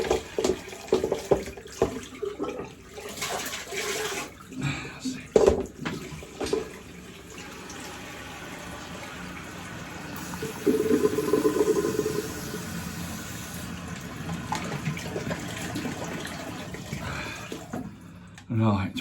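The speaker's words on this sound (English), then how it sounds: "Just have a little rinse out with this." Water runs and splashes while a shaving bowl is rinsed out, a close, uneven flow that swells in the middle and fades, with someone talking over parts of it.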